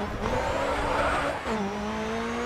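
A race car in Grid 2 slides into oversteer, its tires squealing in a sustained high whine over a steady engine drone that drops in pitch partway through.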